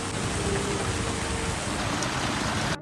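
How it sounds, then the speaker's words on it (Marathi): Heavy rain pours down at a market, a dense, steady hiss of drops on surfaces, close and loud throughout with no talk. "जोरात पाऊस चालू झालाय"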